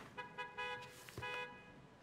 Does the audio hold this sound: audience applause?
no